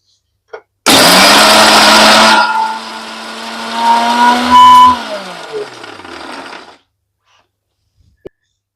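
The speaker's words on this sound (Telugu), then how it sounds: "మూత పెట్టి ఫస్ట్ వట్టిగా మిక్సీ పెడదాము" A kitchen mixer grinder runs dry on cooled roasted peanuts for peanut chutney, a loud, close motor whir and grinding rattle lasting several seconds, its pitch shifting as the jar contents break down, then cutting off.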